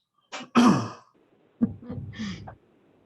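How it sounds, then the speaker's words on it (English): A few harsh, throaty coughs and throat-clearing bursts come close up in short clusters, separated by brief quiet gaps, during a planning commission meeting. "having a coughing attack at the worst moment"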